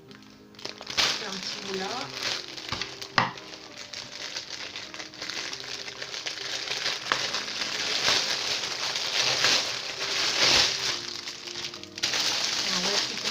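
A sealed plastic package holding a jacket is cut open and pulled apart, giving steady close crinkling and crackling with scissor snips throughout, while someone talks over it in places.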